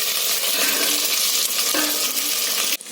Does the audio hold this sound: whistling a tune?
no